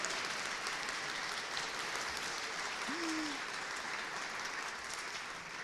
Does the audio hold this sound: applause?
yes